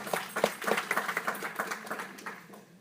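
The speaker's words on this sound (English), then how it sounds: "So that's worth applause" Audience applause at a Brooklyn College alumni event, a burst of scattered claps that starts fairly strong and thins out over a few seconds.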